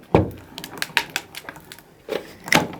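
A Sizzix Big Shot die-cutting machine cutting through mat board gives a few sharp mechanical clacks and creaks, heard close and fairly loud with short pauses between them, and no talking.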